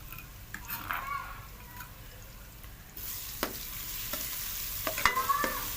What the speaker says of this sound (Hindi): तो अब इसके अंदर हम डाल देंगे लहसुन, अदरक और सब्ज़ मिर्चें